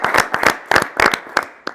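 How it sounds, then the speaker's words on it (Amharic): A studio audience at a holiday game-show match between two teams breaks into scattered, uneven clapping, several loud bursts of hands in quick succession that thin out toward the end. "አጨብጭቡላቸው።"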